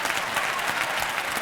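A theatre audience at a Catalan comedy show applauds, a dense, steady wash of clapping from many hands filling the whole moment without voices.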